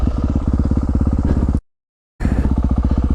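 A Yamaha 450 dirt bike engine revs hard and accelerates off-road with a loud, fast, throbbing exhaust pulse. It cuts out briefly midway, then resumes just as loud and close.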